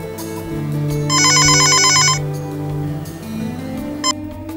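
A telephone rings with a bright electronic trill in one sustained burst lasting about a second, loud over a background of music and low murmuring voices.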